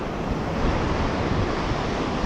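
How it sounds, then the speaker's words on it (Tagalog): Large surf breaks along a rocky coast in a continuous, close, loud wash of noise mixed with wind rumble, no voices. "Mas lalong tumataas yung mga alon na"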